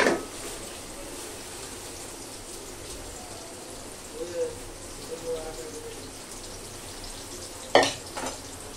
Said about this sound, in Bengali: এখন আমি এই কচু ভাজাগুলো দিয়ে দিব